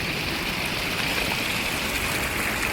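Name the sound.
water flowing from an overflowing village pond spring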